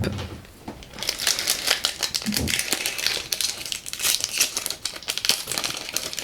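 Foil of a Pokémon trading card booster pack from the XY9 BREAKpoint (Rupture Turbo) set is torn and crinkled open, giving dense, continuous close-up crackling and rustling for several seconds with no talk.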